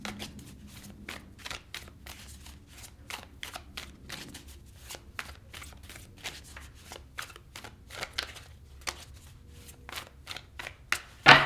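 Tarot cards being shuffled by hand, a long run of quick riffling flutters and soft card slaps at close range, steady and fairly quiet, ending with a brief sharper knock.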